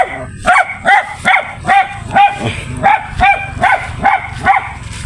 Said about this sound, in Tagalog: Ang aso nila, oh, matapang.